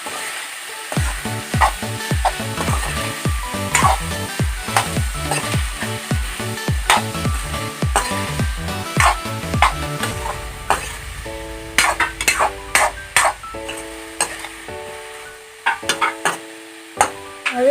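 Fish curry ingredients with salt stirred in a pan, a steady run of close scraping and clattering strokes over a soft sizzle, turning into sparser knocks and clinks toward the end.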